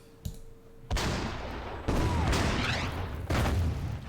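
World War 2 artillery barrage in Order of Battle: World War 2: four heavy blasts land about a second apart. Each sharp, loud boom is followed by a rumbling, crackling tail, with no talk.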